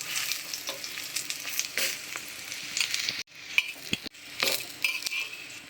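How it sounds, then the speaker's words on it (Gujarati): Chapati rolls fry in hot ghee with a steady bright sizzle, broken by short clinks and scraping stirs of a utensil in the pan, with a brief dip in the hiss partway through. "ઘીની અંદર ગરમ કરીશું,"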